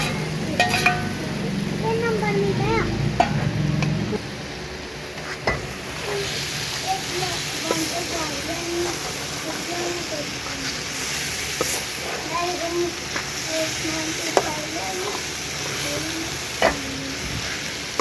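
Saag tadka sizzles steadily in a pan with scraping stirring and occasional clinks of a utensil, cooked in a village kitchen, continuous and close throughout.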